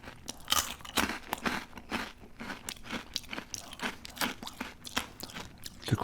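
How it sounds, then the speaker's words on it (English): Crunchy Asian snacks, including sesame-coated cuttlefish and spicy chips, bitten and chewed up close, with repeated sharp crunches in a steady, uneven rhythm and no talking. "The crunch is just to die for."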